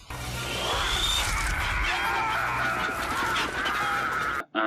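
Chickens squawking and clucking in a transport truck pulling over in the horror film Carnosaur, a dense, loud, continuous clamor of many birds close by, ending abruptly.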